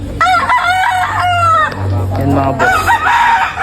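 A rooster crows loudly and close, a stretched strained call followed by another crow, while someone speaks Tagalog over and between the calls.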